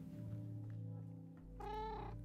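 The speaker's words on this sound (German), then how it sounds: "die Katze bewacht uns" A cat meows in the video game Minecraft, one clear rising-and-falling cry near the end over a steady hum of game background sound.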